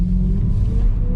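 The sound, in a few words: BMW E92 M3 V8 engine revving with a throttle blip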